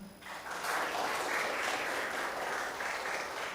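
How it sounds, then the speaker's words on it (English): An audience at a CMA career seminar applauds the dignitaries on the dais, a dense, even wash of clapping that swells in and holds steady without talk. "So guys, can we have a round of applause?"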